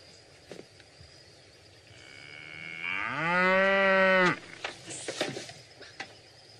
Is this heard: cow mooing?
yes